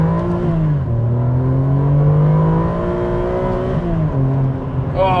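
A Ferrari 575M's engine revs hard under acceleration, a loud, close, continuous drone whose pitch climbs, dips with a gear change and rises again.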